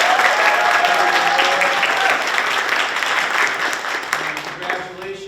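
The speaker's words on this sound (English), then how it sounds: "One more round of applause for our class of 23." A crowd applauds the graduating class at a future teacher signing day, with steady, loud clapping throughout and some cheering and talk mixed into the din as it slowly eases.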